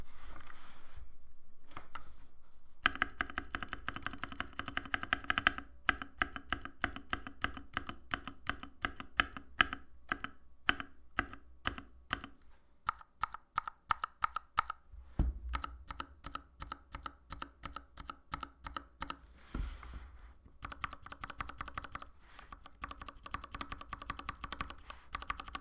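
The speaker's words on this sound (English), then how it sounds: "I'll just do the sorry, the stabilized keys for you guys to listen." An Epomaker S68 mechanical keyboard with stabilized keys is typed on in a steady run of crisp, close clacks. The keystrokes come rapid and even for about twenty-five seconds, with no voice over them.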